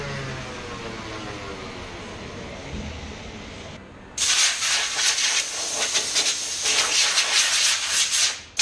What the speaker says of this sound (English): Don't get carried away with the sanding or anything.